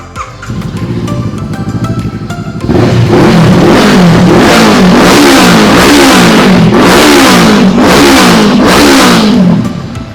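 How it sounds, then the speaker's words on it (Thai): A motorcycle with an aftermarket 18-inch exhaust idles loudly, then revs repeatedly in rising and falling surges, its throaty exhaust roaring close by. "มาฟังเสียงกันหน่อย ท่อแต่ง ตัว 18 นิ้วติดมาให้นะครับ"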